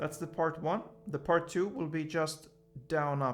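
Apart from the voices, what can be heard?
None of the usual background noises is heard.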